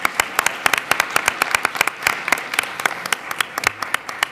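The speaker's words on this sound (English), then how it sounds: "I want to just give another round of applause to all our panelists today and our keynote speaker" An audience applauds the panelists and keynote speaker at a conference on international law and cyber threats, a dense, steady round of clapping from a room full of people.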